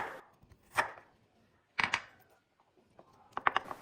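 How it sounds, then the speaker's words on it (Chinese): A knife slices fresh ginger into small pieces on a cutting board, giving a few sharp, separate chops spread out with short pauses between them, close up in a quiet kitchen with no one talking. "准备好生姜，切成小片"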